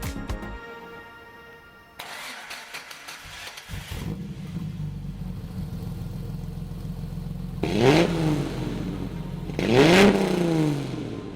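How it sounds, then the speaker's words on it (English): A 1992 Jeep with a 4-liter straight-six engine and free-flow exhaust with branches idles with a low burble, then revs twice in strong rising-and-falling bursts, loud and close with no talking. "It's a 1992 4-liter straight 6 manual. I put a free flow exhaust on with some branches."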